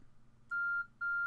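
Timer beep in the farming game My Time At Portia: two clean electronic tones, a longer one followed by a shorter one after a brief gap, clear and isolated over a faint background hum.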